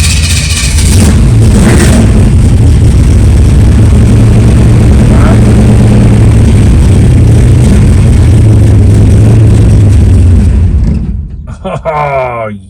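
Engine of a 1965 Chevy Nova with an MSD ignition runs steadily with a loud, low idle rumble, then cuts out abruptly near the end after the key is turned, leaving brief quiet mechanical settling.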